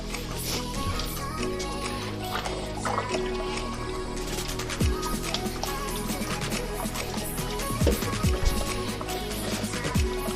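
Cornish hens are washed a second time in water, with steady trickling, dripping and squishing sounds close by as the raw birds are rinsed and handled in a kitchen sink.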